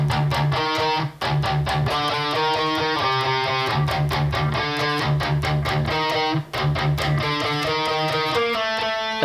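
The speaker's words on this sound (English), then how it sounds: "So harmony riff 1 for guitar 1 is going to sound like this." Distorted electric guitar playing a harmony riff: loud, tight palm-muted chugs alternating with ringing harmonized notes in a driving metal rhythm, with two brief cuts in the sound.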